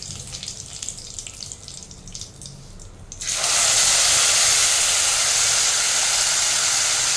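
Spice paste for chana paneer masala hits hot oil already flavoured with cumin and two bay leaves, setting off a sudden loud, steady sizzle that bursts in after a quieter stretch of low kitchen noise and holds to the end.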